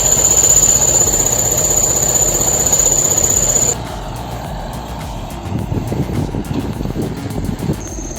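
A T150 tractor and a Chetra T130 bulldozer run their engines nearby, a steady loud drone with a high whine that drops away midway, leaving a rougher lower mechanical rumble.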